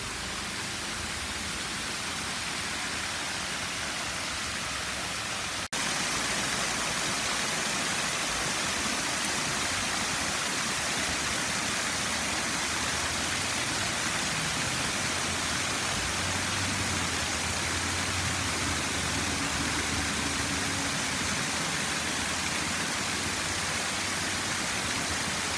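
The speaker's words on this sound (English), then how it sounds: "they open these locks right here and let the water go down" Water rushing through open canal locks at an old mill, a broad, constant roar of falling water that fills the scene, steady and loud with no voices.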